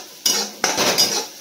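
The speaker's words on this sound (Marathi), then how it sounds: "फक्त कांद्याला जरा असं परतून घ्यायचं" A spoon stirring golden fried onions in a pan, three sharp metallic scrapes and clatters against the pan in quick succession, close and loud, with no talk.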